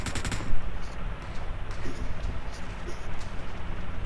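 Machine gun fire in PUBG, with a sharp burst of rapid shots at the start and then scattered bursts further off under a dense, noisy battle bed.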